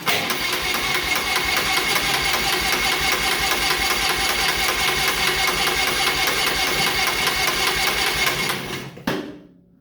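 The gasoline pony engine on a John Deere R tractor cranks over with a loud, rapid mechanical rattle that runs steadily for about nine seconds, then cuts off abruptly into silence.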